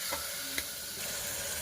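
Vegetables and spices for veg pulao fry in a pan, a brief, steady, moderately quiet sizzle with a couple of soft clicks, no voices.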